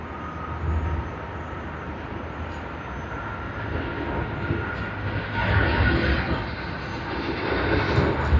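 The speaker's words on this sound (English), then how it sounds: "we have CX 110 A350 900 of Cathay Pacific on its takeoff roll now" An Airbus A350-900 jet of Cathay Pacific on its takeoff roll at Sydney Airport gives a steady broadband engine roar that swells gradually louder toward the end, heard from a distance with no talk.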